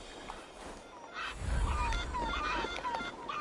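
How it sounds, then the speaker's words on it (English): Chickens cluck and squawk as they mob and attack a character in the video game Assassin's Creed Valhalla, a busy cluster of fowl calls over low game ambience. "Is he getting jumped by chickens?"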